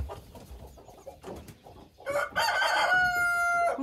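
Hens cluck softly in a backyard coop, then a rooster lets out a loud, close cock-a-doodle-doo crow that rises and holds for over a second.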